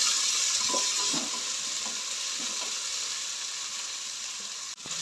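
Vegetable noodles with a little coriander fry in a pan, a steady close hiss with soft scraping stir strokes through the first seconds and no talk.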